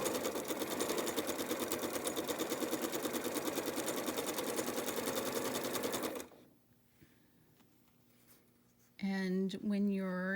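A sewing machine stitching quilt block fabric runs steadily with a fast rhythmic stitching chatter for several seconds, then stops; a person begins speaking afterward.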